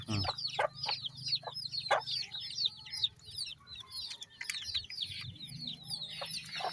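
Hungry chickens clucking busily while being fed, a dense flock of overlapping clucks and chirpy calls up close, with an occasional louder squawk and a low background hum.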